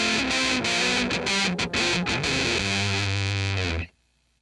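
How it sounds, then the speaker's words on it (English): Heavily distorted electric guitar through a Holy Stain multi-effects pedal's fuzz setting alone, buzzy fuzz tone, choppy chords giving way to a sustained ringing note that cuts off abruptly. "so you can hear just what the fuzz sounds like by itself"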